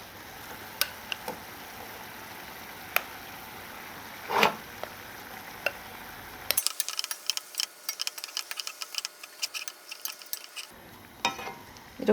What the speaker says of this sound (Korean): 고기에 육즙이 어느 정도 나오고 익으면 아까 재워두었던 김치랑 같이 볶아